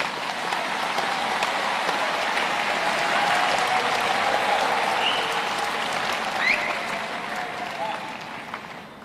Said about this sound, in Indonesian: Tepuk tangan untuk para gembala kita.